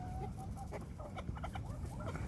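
Hens cluck softly and steadily amid a busy farmyard hubbub, with a few brief squawks rising over the low murmur, as a rooster mounts a Cochin hen.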